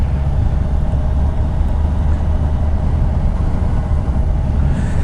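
A 2022 Kawasaki Ninja 1000 SX cruising at about 30 mph, heard as a continuous loud rumble of engine and wind noise with no break and no voices.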